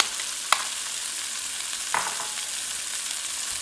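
Onions sautéing in about a tablespoon of olive oil in a pan for garlic shrimp Alfredo give a steady, close sizzle throughout, with a couple of brief clicks or utensil taps.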